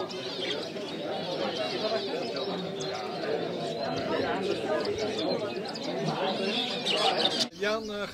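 Many birds chirp and call throughout a bird breeding club exhibition hall, a dense steady chatter beneath a voice speaking Dutch over a public address.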